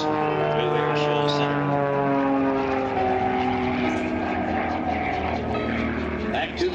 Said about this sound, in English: Joanne pushes negative. The airplane goes up.